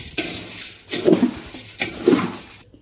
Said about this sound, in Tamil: நல்லா அடியிலிருந்து நல்லா எடுத்து கலந்து விடுங்க